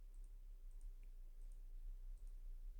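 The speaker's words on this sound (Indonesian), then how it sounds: "seleksi pada sebuah objek itu adalah dengan cara klik kiri pada mouse" Soft, crisp left mouse button clicks, about half a dozen spaced irregularly in a quiet room.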